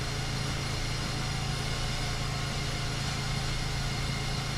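Steady engine idle from a 2005 Mazda 3 with a damaged transmission pan, a constant low hum and rumble held at an even level throughout, close by, with no talk.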